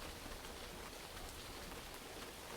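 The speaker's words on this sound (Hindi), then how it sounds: "लेकिन अचानक छत से पानी टपकने लगता है।" Heavy winter rain falls on an old house roof, a faint, steady hiss of drops with no distinct individual drips.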